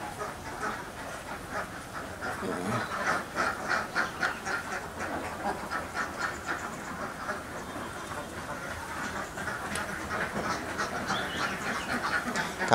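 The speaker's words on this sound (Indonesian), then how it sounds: "Kalau lihat bebek pagi-pagi habis mandi itu nyeneng nih bro." A flock of ducks in a duck pen quacks in a rapid, chattering chorus, moderately loud and continuous, with pulsing bursts of calls rising and falling.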